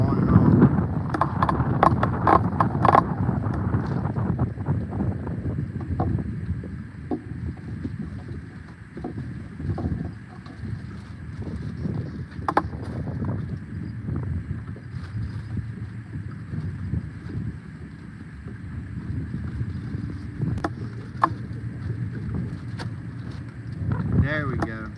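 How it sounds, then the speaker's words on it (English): Heavy wind blowing outdoors below a dam on the Ohio River, a steady broadband rush with microphone buffeting throughout, under intermittent voices. "the wind's been heavy all day, on and on"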